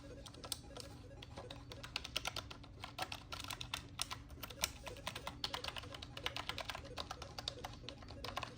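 Rapid, continuous clacking of a computer keyboard as the F keys are pressed one after another. The irregular clicks sit close and crisp over a steady low background hum, with no voices.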